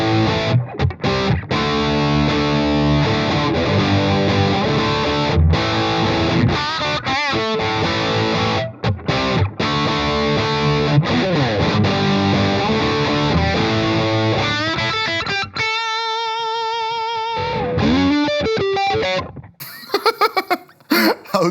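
Electric guitar played through a Rev Generator Mark III amp with heavy distortion, loud sustained chords and riffs filling most of the stretch, then cleaner ringing single notes near the end before a few short bursts.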